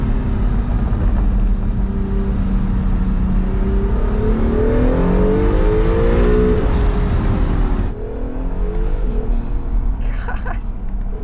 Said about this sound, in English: I love hearing those turbos.